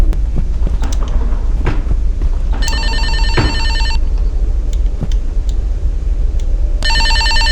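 In the video game Escape the Backrooms, a telephone rings with two loud electronic bursts of bell-like trilling, separated by a pause, over a low constant background hum and scattered faint clicks.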